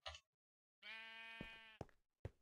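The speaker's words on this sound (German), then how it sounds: "Weil ich jetzt einfach diese Schafe hier auf dem Kopf rumtrage." Sheep in Minecraft bleating, one long wavering bleat with short clicky game sounds before and after.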